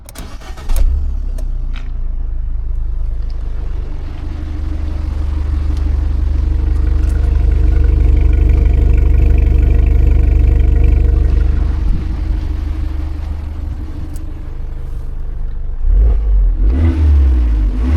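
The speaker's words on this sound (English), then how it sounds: "Let's see how it sounds." A crash-damaged Fiat 500 Abarth engine cranks and catches, settles into a deep idle, then revs up in a long swelling rise before dropping back, loud and close with no talking.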